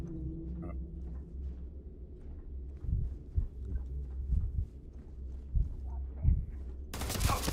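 Gunfire in the sci-fi game Starfield, a run of muffled thumping shots and rumbling bursts at irregular intervals over a low drone, ending in a sudden loud hiss.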